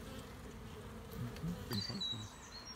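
Honeybees from Buckfast-queen colonies hum around beehives, a steady close buzz of many insects with occasional louder passes near the listener.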